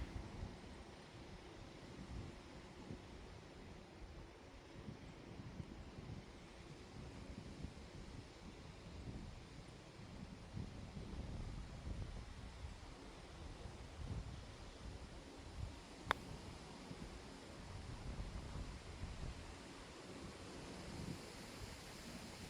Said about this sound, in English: the wind is really whipping off the left here